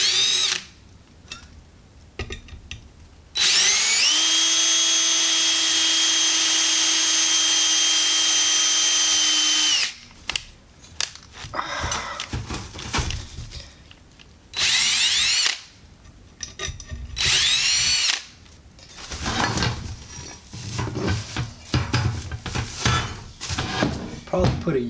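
Power drill starting a pilot hole, one long steady high whine followed by several shorter bursts separated by handling clatter and knocks.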